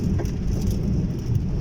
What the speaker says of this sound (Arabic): أمطار غزيرة الآن